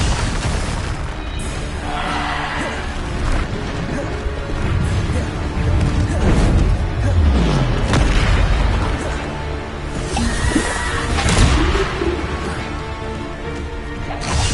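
Bombarda spell explosions in Hogwarts Legacy on PlayStation 5, loud booming blasts and bursts one after another amid crashing combat effects, dense and continuous throughout.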